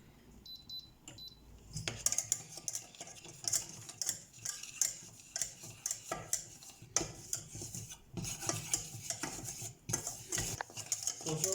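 A spoon stirs milk into a bolognese sauce in a pot for lasagne, with repeated rhythmic scraping and clinks against the metal, quiet and close, and no one talking.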